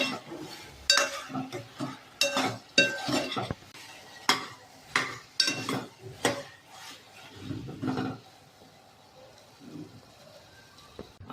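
A cashew, tomato and onion paste frying in a pan, heard mainly as a spoon stirring and clanking against the metal in irregular bursts, with a soft sizzle beneath, close and moderately loud.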